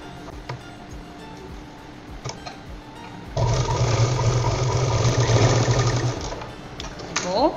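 Sewing machine stitching a seam along a joint on a handmade cloth purse, running steadily for about three seconds at moderate loudness, with quieter handling sounds before and after.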